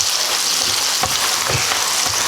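Italian sausage and mushrooms fry uncovered in a pan while being stirred, giving a steady, close, even sizzle with a few soft scraping strokes and no talking.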